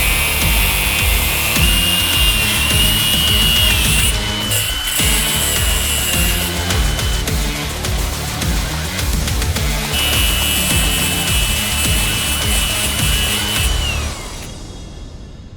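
A power cutting tool grinds through the metal pickup point on a new Moog ball joint for an Easy Knuckle adapter on a Lexus IS300, loud and continuous up close for about fourteen seconds, then cutting off.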